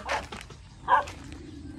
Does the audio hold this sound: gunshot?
no